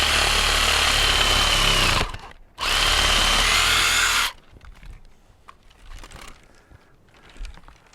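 Reciprocating saw held one-handed, cutting through a fruit tree branch during pruning: two loud, steady buzzing bursts separated by a brief pause, then the motor stops and faint rustling and clicks follow.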